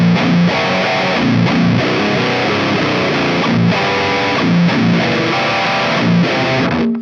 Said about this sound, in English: now we have a totally different type of distortion, like a fuzzy, yet tight enough